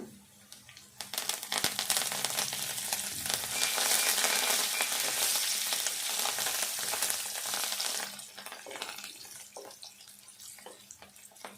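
Onions and chillies frying in hot oil, a loud, dense crackling sizzle close up that holds steady, then eases slightly toward the end with scattered pops, and no one speaking.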